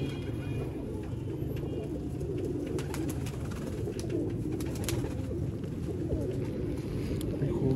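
Ferozpuri pigeons give a low, continuous cooing murmur, steady and fairly close, over a constant background hum with no voices.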